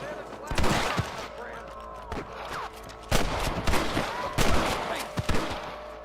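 Gunfire from a shootout in the Western video game Red Dead Redemption, with several loud bursts of shots and rattling volleys spread across the scene, mixed with shouting voices and game ambience.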